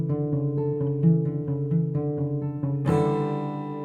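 Acoustic guitar plays the intro of a song, fingerpicking from the sixth string before a strum replaces the final two picks. A quick flow of ringing picked notes ends in one bright, full strum that sustains, close and unaccompanied.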